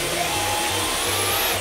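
New vacuum cleaner running at strong suction during unboxing, a loud, close, continuous whooshing roar with a steady motor hum underneath.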